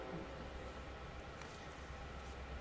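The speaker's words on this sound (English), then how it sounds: "how many trains are going by today?" A train rumbles past outside, a continuous low, distant roar of rail cars that stays steady and fairly faint throughout.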